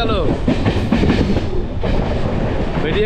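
The Jagdalpur–Howrah Samaleswari Express rolls through Panskura Junction in India with a steady, close rumble and rhythmic wheel clatter over the rails, while voices murmur faintly underneath.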